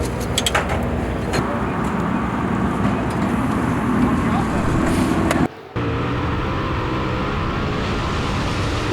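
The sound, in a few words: race cars in a dirt track heat race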